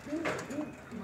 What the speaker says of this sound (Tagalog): Ganyan ito yung kalapati.